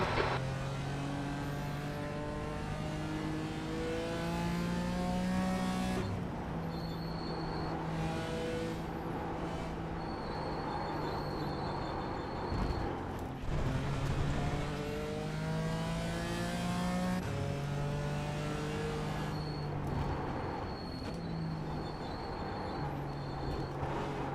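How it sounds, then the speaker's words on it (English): Race cars in the iRacing sim drone steadily with rising and falling engine pitch as cars approach and pass on track, a continuous layered motor roar with no talk. "There's a car approaching."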